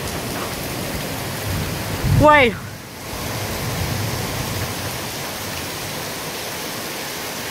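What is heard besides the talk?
heavy rain pouring, flooding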